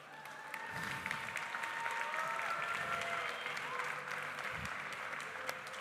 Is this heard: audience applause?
yes